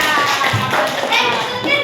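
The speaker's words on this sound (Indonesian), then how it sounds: "tepuk tangan untuk Airin" Elementary school children in a classroom clap for a classmate, a brisk, close patter of small hands with young voices chattering over the clapping.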